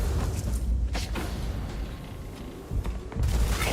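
An automated security system in Starfield fires continuously, dense rapid gunshots packed together for the whole stretch, loud and close, with no voices.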